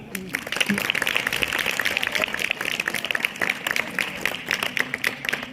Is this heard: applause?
yes